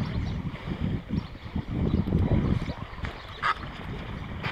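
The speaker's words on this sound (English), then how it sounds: "Getting a bit windy." Wind gusting outdoors beside a shallow river run during a fly-fishing outing, a rough, rumbling buffeting that rises and falls steadily, with a faint brief higher sound near the end.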